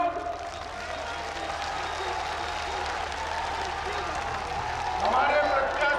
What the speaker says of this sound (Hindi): आइए भैया, ताली बजाइए सब लोग।